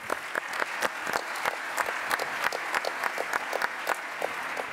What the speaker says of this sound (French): Je vous demande d'applaudir Maxime Ayache